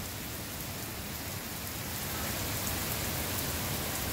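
Heavy rain pours steadily, a dense, even roar of drops hitting surfaces with no voices or breaks.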